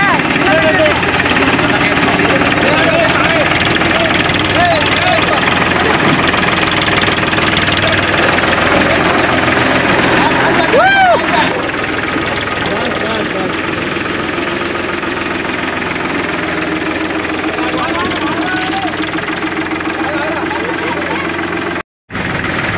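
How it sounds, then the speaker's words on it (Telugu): A tractor engine idles in a Telangana village, a loud, steady mid-pitched throb with a knocking rhythm that fills the whole stretch, with people talking over it. "మొత్తానికైతే బండిని అయితే బయట తీసినాం. ఇది ట్రాక్టర్"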